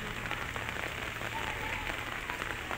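Continuous rain falling in Shivaji Nagar, a dense, even patter of drops striking surfaces with a steady low hum beneath, unbroken for the whole stretch.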